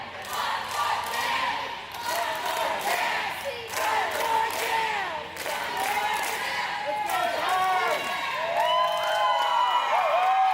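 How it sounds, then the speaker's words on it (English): Crowd at a junior roller derby playoff game between Philly and MARS, chanting and cheering in a loud, rhythmic roar with whoops, while a commentator talks over it. "We got our crowd chanting one more jam."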